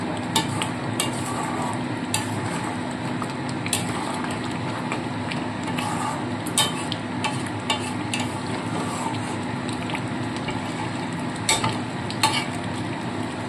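Mutton korma cooking in a pan and being stirred, with a steady, continuous frying hiss throughout and scattered scraping clicks of a spoon against the pan, close up with no talk.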